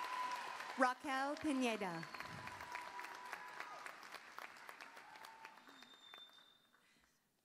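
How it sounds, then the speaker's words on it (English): Audience applause at a university commencement ceremony for a communication graduate crossing the stage, a broad wash of clapping that starts strong under an announcer's voice and gradually thins and fades away to silence. "let's give our graduate a big hand when crossing the stage"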